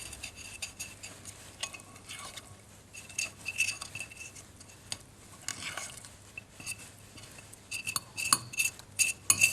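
Cornstarch and water mixture being stirred in a glass beaker, with quiet scraping swirls and frequent sharp clinks of the utensil against glass, irregular and close, growing busier toward the end.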